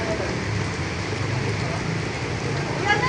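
Sudden heavy rain pours steadily on Fugoso Street in Santa Cruz, Manila, a dense, even hiss that fills the whole moment, close and constant.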